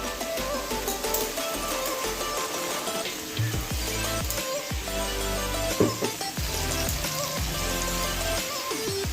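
Ground spice paste hitting hot oil in a pan for a chicken and mutton curry, giving a steady loud sizzle and crackle with scattered spatters and stirring clinks throughout.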